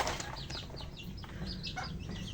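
Two chickens squawk and cluck agitatedly with wings flapping in a brief fight through a net, close by and fairly loud.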